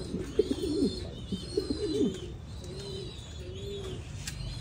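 American Giant pigeons coo on a pigeon farm in Vietnam, with several throaty rolling coos close by, followed by two softer drawn-out calls over faint background noise.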